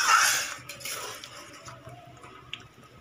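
Fried potol being stirred into a simmering curry in a pot, with a few soft spoon scrapes and clinks, and a low bubbling underneath, no talking.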